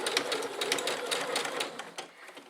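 A sewing machine runs a seam in reverse while sewing an open seam, giving a close, steady, rapid stitching chatter heard alone that eases off slightly near the end.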